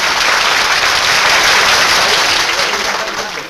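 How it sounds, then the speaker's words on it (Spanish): Film audience applauding an orator at a gathering, a dense, steady wash of clapping from many hands that holds throughout and eases slightly at the end. "Aplaudir al orador"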